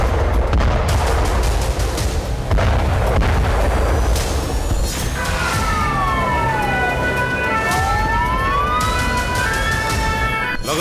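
Explosions at a crowded hypermarket shopping mall in Kharkiv, Ukraine, heard as loud sustained blasts and rumbling with sirens wailing and rising and falling over continuous chaotic noise, no speech.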